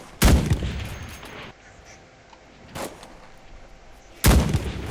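Panzerschreck rocket launcher fired in the video game CRSED: three heavy, booming blasts with long rumbling tails, the first and last loudest, a softer one in between, over quiet ambience.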